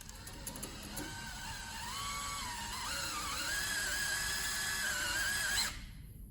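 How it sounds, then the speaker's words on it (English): A power drill twisting copper wires whirs steadily for several seconds, its motor pitch shifting slightly as it spins, then cuts off abruptly. "slowly pull the trigger on the drill"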